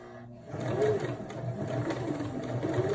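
A sewing machine stitching the seam of a car trash bag at about 2.5 stitch length starts up after a brief quiet moment, then runs in a close, steady whirring hum to the end.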